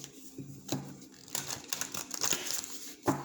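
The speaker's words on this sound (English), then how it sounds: "Do one more shuffle" Tarot postcards being shuffled close up, a series of quick papery riffles and soft card snaps in irregular bursts, moderately quiet.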